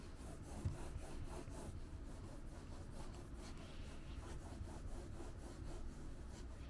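A gaming mouse slides back and forth on a diagonal-weave Esports Tiger mousepad, producing a soft, rhythmic scratchy rasp of repeated strokes, close but faint.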